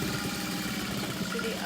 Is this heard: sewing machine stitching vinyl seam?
yes